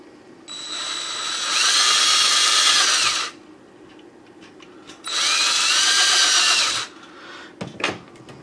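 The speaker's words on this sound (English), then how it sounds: "Just drill those out." A power drill bores holes during a DC HDMI install, in two sustained, loud whirring bursts of about two seconds each, with a quiet pause between them and faint clanks afterward.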